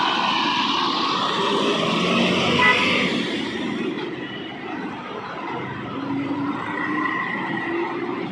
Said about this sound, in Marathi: हिरकणीची गाडी आलेली आहे मुंबई ते पांगारी दाभोळ मार्गे